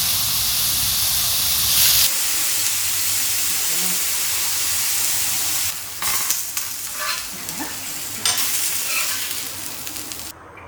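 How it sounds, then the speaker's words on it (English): Pineapple rings sizzle loudly on a hot grill pan with steady hissing, with a few louder bursts of spitting as pieces hit the surface. "add in the pineapple rings onto the grilling pan so that we get some nice sizzling pineapples"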